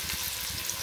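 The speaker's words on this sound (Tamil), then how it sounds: "எண்ணெய் போட்டு இப்போ பொடி வெங்காயம் ஃபஸ்ட்டு பொடி வெங்காயம் போட்டு அது கொஞ்சம் நேரம் வதங்க வைப்போம்." A steady, close sizzle of chopped onions frying in hot oil, continuous and even throughout the brief moment.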